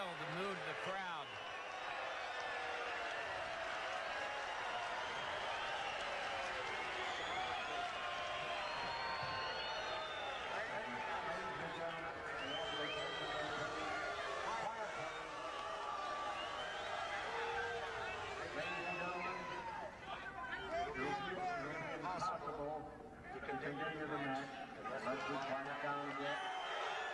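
A packed tennis stadium crowd at the 1979 US Open match between Nastase and McEnroe keeps up a loud, continuous roar of chatter, shouts and jeers, with an announcer's voice heard through the din.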